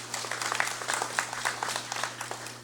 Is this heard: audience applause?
yes